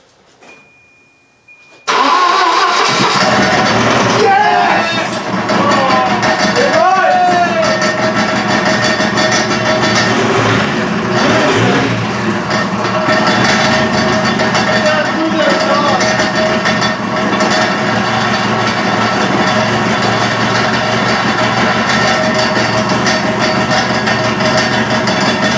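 A Volvo 240 Turbo with a swapped-in manual gearbox cranks and fires after a short quiet moment, then settles into a loud, steady idle with a few light revs.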